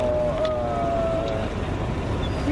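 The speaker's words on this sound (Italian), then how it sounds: "la macchina ha questo motore fuori bordo con due serbatoi di benzina all'interno del portabagagli" Outboard motor driving an amphibious car across the sea, a steady close engine drone with water rush and a faint whine, running alone throughout.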